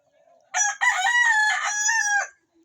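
A labuyo junglefowl rooster crows once up close, a loud clear multi-part call lasting under two seconds, with quiet before and after.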